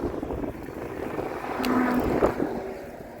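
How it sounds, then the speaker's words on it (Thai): Wind blowing through a vegetable garden, a steady breathy rush that swells toward the middle, with faint outdoor sounds and no talking. "ฟังเสียงลมเนาะ"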